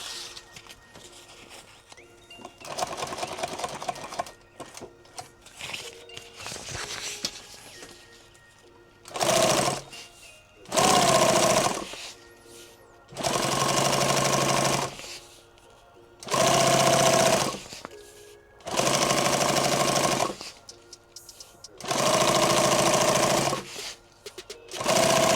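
Sewing machine stitching a rig build in repeated loud whirring runs of a few seconds each, with brief pauses between runs and quieter mechanical handling before them.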